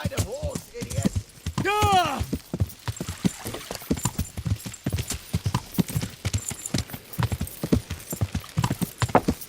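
Hooves clip-clop on a horse in the medieval video game Kingdom Come: Deliverance, a steady walking rhythm of close hoofbeats with a brief neigh near the start and voices talking over parts of it.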